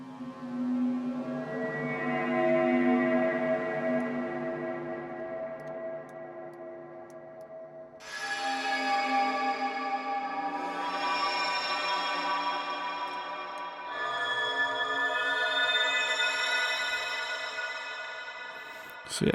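A creepy, cinematic Serum synth preset from the Forest Psy pack swells and shifts in long sustained tones with echoing, ticking texture, moving through several droning sections at moderate loudness with no speech.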